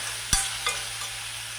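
Chopped onion sautés in a pan for a Kerala spring onion thoran, giving a soft sizzle with a couple of sharp clinks of a stirring spoon against the pan.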